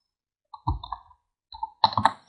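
Computer mouse clicks while pressing a Save button in software, a few quiet, close, sharp clicks in two small clusters with silence around them.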